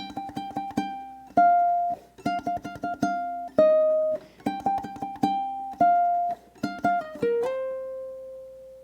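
A plucked ukulele plays a bouncy blues rock riff, repeating short chord stabs with sustained notes, ending on a ringing held tone.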